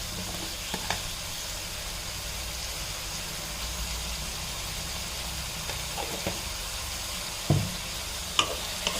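Tomato chutney, Tamil Nadu style, cooking on high flame, a steady soft sizzle and bubble with occasional light stirring knocks.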